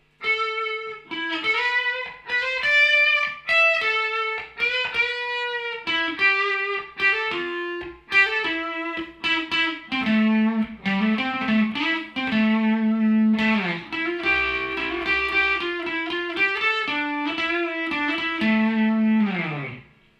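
A distorted electric guitar plays a slow, melodic lead line, with sustained bent notes and short picked phrases ringing out loudly and alone.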